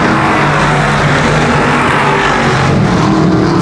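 Loud, dense engine roar from race cars on a dirt racetrack during a heat race at Genesee Sportsman, a continuous thick rumble of several motors at once, near and unbroken, with no voices.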